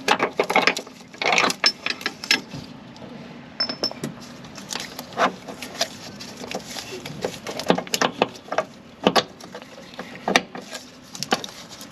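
Ratchet wrench clicking as it backs out a control arm bolt on a 2007 Honda Accord, a series of quick metallic ratcheting bursts and clanks, close and moderately loud, with pauses between strokes.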